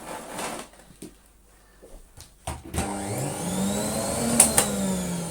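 After a few clicks and knocks, a repaired Moulinex E59 vacuum cleaner starts up with a rising whine and runs loudly and steadily with a rough, high hiss, running dry.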